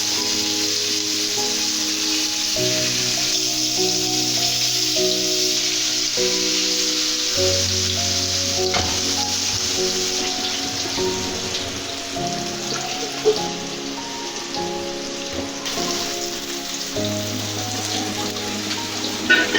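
Mrigel fish, rubbed with spices, frying in hot oil in a pot, giving a steady close sizzle that runs without a break for the whole stretch, with a few louder crackles near the end.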